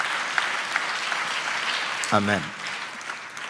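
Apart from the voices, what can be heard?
congregation clapping in church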